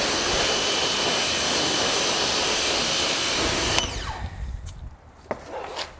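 A pressure washer with its original hose runs during a first wash of a 2022 BMW G80 M3 Competition xDrive, a loud steady roaring hiss that cuts off after about four seconds, leaving fainter spraying and rustling sounds.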